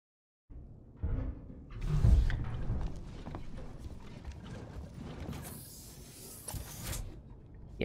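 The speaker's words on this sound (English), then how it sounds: "He's still thumping around near me." An alien in Alien: Isolation thumps around nearby with irregular heavy footfalls and clanks, moderately loud against a low rumbling ambience.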